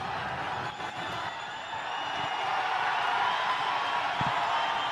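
A large cricket stadium crowd at a USA versus Nepal international match roars steadily, the broad wash of noise swelling slightly louder toward the end after a boundary.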